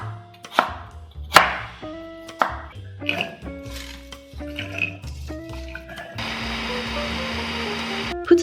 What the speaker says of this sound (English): Prepare some lotus root, cut it into small pieces,